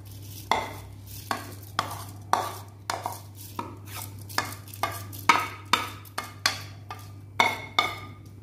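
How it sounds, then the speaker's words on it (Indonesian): Washed glutinous rice for bubur injin is stirred in a cooking pot, giving a steady series of sharp scraping strokes about twice a second over a constant low electrical hum, with no talking. "Kita aduk."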